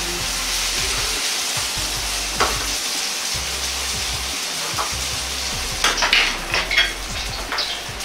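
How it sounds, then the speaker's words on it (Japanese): Yakisoba noodles fry in an oiled pan with a steady, close sizzle, joined by occasional metallic clinks and scrapes of a utensil against the pan, with no voices. "まずは先ほどと同様に焼きそばを焼きます。"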